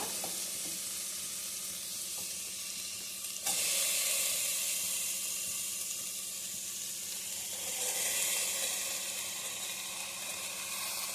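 Cluster beans fry in oil in a pan, a soft continuous sizzle that jumps louder partway through and swells again near the end, with faint stirring underneath and no speech.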